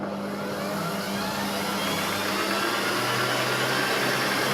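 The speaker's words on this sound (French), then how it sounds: "on a mis donc tout notre petit monde, la farine, le sucre, les œufs dans le robot, on ferme et on y va" Food processor blending flour, sugar and eggs into canelé batter at a fairly vigorous medium speed, a loud, continuous motor whir with dense broadband churning that holds steady throughout with no pauses or talk.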